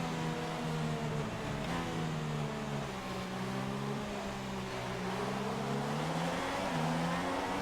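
Formula 1 race cars restart after a safety car in the game F1 2016, with a steady, loud engine drone whose whining pitch rises and falls continuously throughout.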